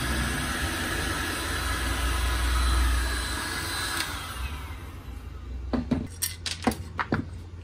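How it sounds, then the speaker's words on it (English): Several screws dropped during inverter testing, landing as a burst of sharp metallic clinks and taps after a steady humming machine background dies down. "Excellent, dropped all screws."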